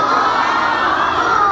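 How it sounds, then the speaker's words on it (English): Children in a magic show audience at Knowles Elementary School cheer and shout together, a loud, dense and sustained burst of crowd noise with no break. "give yourself another round of applause"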